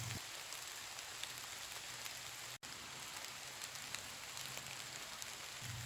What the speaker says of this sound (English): The rain clouds had gathered and it started to pour.